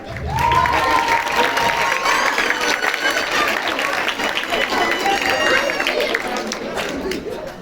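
Students in a school auditorium at a Jocs Florals poetry festival clap and cheer as a crowd, busy and steady, with a voice audible over the start and chatter mixed in.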